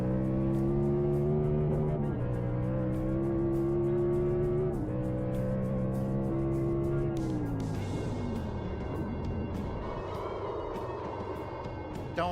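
Race car engine in a NASCAR video game roars steadily at high revs, pitch rising and dipping through gear changes and braking, with a brief tire squeal near the end; loud and continuous throughout.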